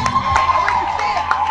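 An audience at a Martin Luther King memorial event in 2024 cheers and whoops loudly, a dense close crowd roar with shouts and possible clapping, with voices mixed in.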